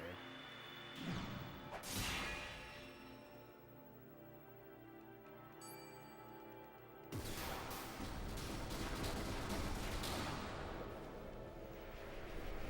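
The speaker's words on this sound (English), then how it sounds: "What an explosion" A loud synthetic blast bursts out, then a sustained rumbling roar of a Chrono Cross game explosion with layered crackle and whooshes, after a quieter tonal stretch.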